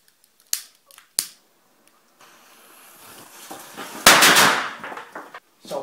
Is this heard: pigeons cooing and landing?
no